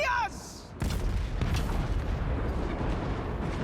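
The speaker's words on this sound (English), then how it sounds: "brutal hits with the cannon" Cannon artillery strikes land in the Total War Warhammer 3 video game, a heavy booming blast followed by rumbling battle noise and sharp cracks, loud and dense, after a brief in-game voice.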